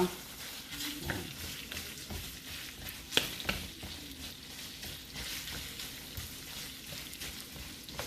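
Marinated chicken for fried rice sizzling steadily in a pan while being stirred and broken apart, a low continuous fry with occasional scraping clinks, no voices.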